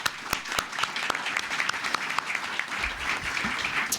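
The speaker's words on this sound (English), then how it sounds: "how about a round of applause for our first panel?" Steady, full applause from an audience at a Senate field hearing in Kenai, Alaska, with dense clapping throughout and a few louder individual claps standing out.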